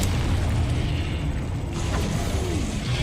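A Confringo spell in Hogwarts Legacy goes off as a dense, continuous rumbling blast with crackling debris, loud and close throughout with no speech.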